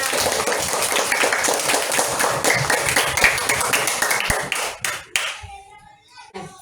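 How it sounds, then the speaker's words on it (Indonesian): Children in a classroom clap their hands together in a steady, lively burst of claps for several seconds, with a few voices among them, before the clapping fades and quiets. "Tepuk tangan."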